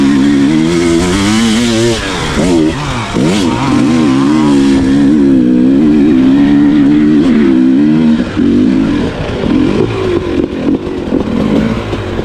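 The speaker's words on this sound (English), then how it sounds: "I'm on the new KTM." A new KTM 300XC two-stroke dirt bike rides close and loud, its engine rising and falling in pitch as it revs and shifts, with continuous clatter and no talk.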